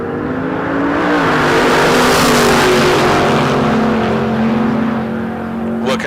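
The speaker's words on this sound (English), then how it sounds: "Pratt in the Nova out of Texas. Spitali in the Roadster out of Arizona" Drag racing cars, a Nova and a Roadster, run at a drag strip with a loud, sustained engine roar that swells to a peak midway and holds, and no speech over it.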